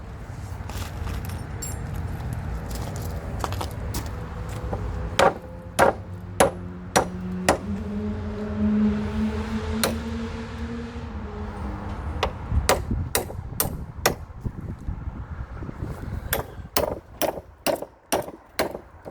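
Hammer blows ring out on an iron fairground ride gate under repair, sharp metallic strikes landing irregularly, then in quicker clusters toward the end over a low background hum.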